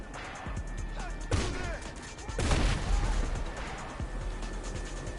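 Explosive-round gunfire in GTA Online: two loud, sharp blasts a second apart stand out over a busy game soundscape with scattered impacts.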